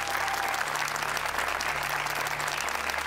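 A studio audience on a Greek version of a million-euro quiz show breaks into loud, sustained applause, a dense, steady wall of clapping from the stands.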